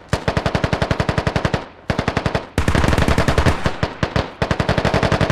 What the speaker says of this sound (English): So, Russia just shooting the building up.